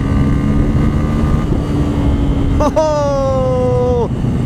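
A Bajaj Pulsar N160 160cc motorcycle engine rumbles steadily amid wind noise, with a brief revving whine that rises and then fades near the end.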